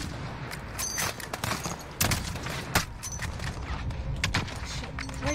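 Rapid gunfire in the Modern Warfare video game, many sharp shots in irregular bursts with a few louder cracks standing out, set against battle noise and faint voices.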